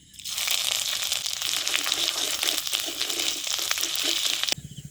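Chopped ginger hits hot oil in a pan for a vegetarian village potato chop, giving a loud, crackling sizzle that holds for several seconds and then cuts off abruptly.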